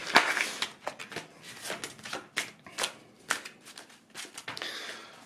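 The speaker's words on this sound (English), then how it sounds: "shuffle them all up" A deck of playing cards for a dinosaur tabletop game is shuffled up close, a run of quick, crisp riffling bursts in an uneven rhythm, with no talking.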